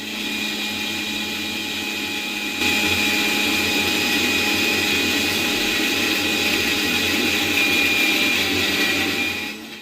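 A kitchen mixer churns collected cream into butter, giving a steady loud whirring drone that runs continuously, stepping up slightly in intensity after a couple of seconds and cutting off at the very end.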